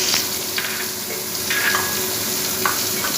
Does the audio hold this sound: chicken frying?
yes